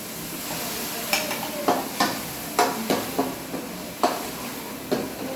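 Tomato puree hits a hot pan of methi papad curry, giving a steady sizzle broken by several sharp spoon scrapes and stirring clinks against the pan, close and fairly loud with no talking.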